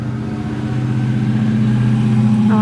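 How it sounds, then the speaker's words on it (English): A loud truck passes by outside, its engine drone swelling steadily and holding strong throughout, a low mechanical hum with harmonic tones, heard alone without voices. "Oh, I know, the loud truck driving by."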